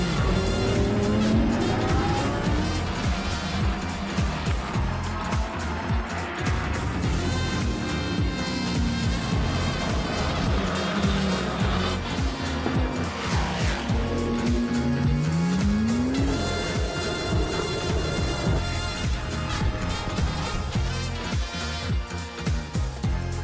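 GT4 race cars brake hard into a corner at the Valencia circuit, engines howling continuously with pitch sweeps on downshifts and tires squealing, loud and close throughout.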